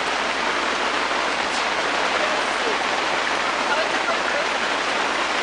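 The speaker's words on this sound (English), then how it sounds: "It rained." Rain pours steadily outdoors at a campsite, a dense, loud and even hiss of drops beating on surfaces that continues unbroken throughout, with no voices over it.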